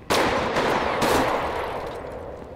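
Gunfire in a GTA roleplay video game, a sharp burst at the start followed by another shot about a second later, loud and close with a ringing tail that fades out.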